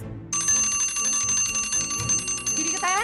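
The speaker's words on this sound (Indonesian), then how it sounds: "Buruan tuh udah bel." A school bell rings continuously, a bright metallic rapid trill that starts abruptly and holds steady for about three seconds, fairly loud with faint background chatter beneath.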